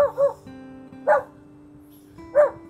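Three separate barks from a dog on a rough rural road, each short and fairly loud, spaced about a second apart over a steady low hum.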